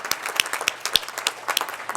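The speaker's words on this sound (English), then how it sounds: "Can we just give all of them a round of applause?" Scattered hand claps from a conference audience applauding a panel and its speakers at a day's closing session, individual claps distinct and moderately loud over a soft room hum.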